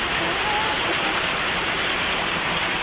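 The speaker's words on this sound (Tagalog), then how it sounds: "naabutan tayo ng ulan" Heavy rain pours steadily onto a tin roof at a shooting range shelter, a dense, loud, even roar with drips throughout and no break.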